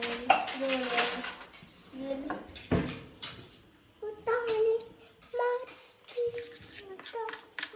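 A small spoon clinks and rattles against dishes in bursts, with voices, including a child's, talking in between.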